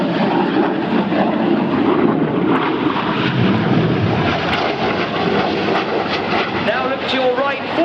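Red Arrows Synchro pair jets flying an opposition barrel roll at the Eastbourne airshow, a loud continuous engine roar that fills the whole stretch, with crowd and commentary voices audible underneath.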